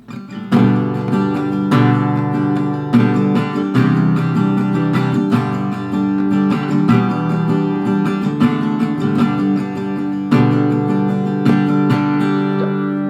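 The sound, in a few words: guitar down and up strums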